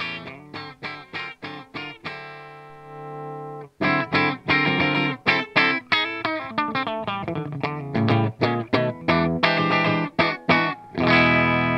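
Electric guitar through the clean channel of a Schecter Hellwin Stage 100W tube amp, at low gain with a slightly crunchy tone, plays a rhythmic run of chords and notes, with one sustained chord and short choppy strums around it.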